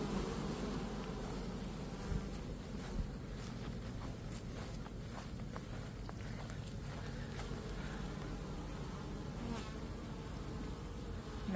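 Honeybees at a beekeeping hive fitted with a pollen trap, hanging in a thick curtain at the entrance, make a dense, steady buzz that stays close and constant throughout, with no talk over it.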